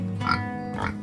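A pig on a Philippine farm gives two short, low grunts about half a second apart, close by and fairly loud over a steady background hum.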